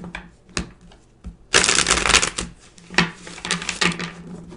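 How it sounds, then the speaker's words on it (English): Tarot cards shuffled and pulled from a deck, a soft papery riffle of rapid flicks with a dense burst in the middle, close by and alone. "I'm going to pull a couple more cards"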